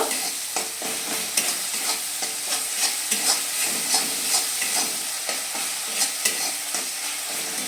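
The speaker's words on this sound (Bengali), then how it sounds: "এবার আমি এর মধ্যে দিয়ে দিচ্ছি স্বাদ মতো চিনি, দিয়ে এটা আরো ভালোভাবে আমি কষিয়ে নেব।" Tomato masala with sugar sautés in a pan for vegetable dal, a close, continuous sizzle and frying hiss with repeated scraping stirs of a spatula, no talking.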